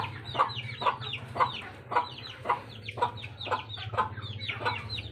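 Free-range village chickens clucking on a poultry farm, a run of repeated close clucks and calls at a steady rhythm over a low background hum, with no talk.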